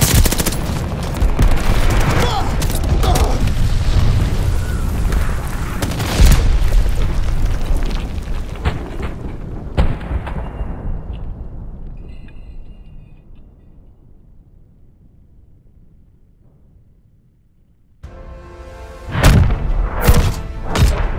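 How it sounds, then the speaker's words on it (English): Glide bombing in Call of Duty: Vanguard sets off a dense barrage of heavy booming explosions mixed with gunfire, loud and close, which fades to near silence before fresh blasts and shots break out again. "Enemy's got a glide bombing coming."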